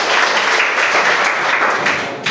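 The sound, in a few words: audience applause for team B at a school quiz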